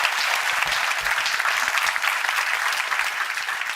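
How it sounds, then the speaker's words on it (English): A room full of symposium attendees gives a steady round of applause, a dense, even wash of clapping with a few sharper individual claps standing out. "So a big applause for her."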